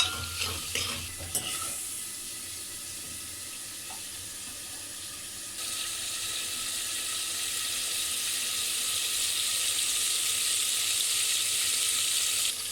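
Water poured into a hot pan of onions while cooking chicken korma, with brief stirring clatter at first, then a steady, loud hiss and sizzle that builds and continues alone.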